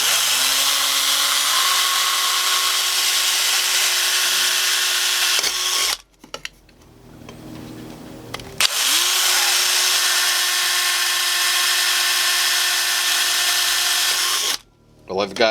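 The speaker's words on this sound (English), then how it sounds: "I'm going to pre-drill with a smaller drill bit, and then I'm going to be drilling out the holes" A power drill with a 5/16-inch bit bores holes through a metal can, whining steadily for several seconds, pausing, then starting again, close and loud.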